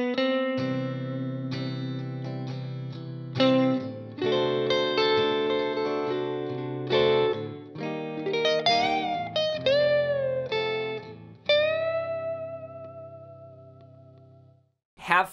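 Electric guitar with effects-laden, distorted tone plays the melody and a closing lick of a song over chord changes, with sustained chords, bends and a sharp final stab, alone without talk.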